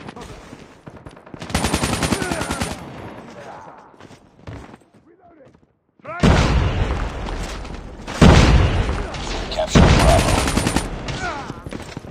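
Grenade blasts and bursts of gunfire in Call of Duty Mobile, loud and clustered in several heavy stretches, with quieter gaps between and game voice callouts running through.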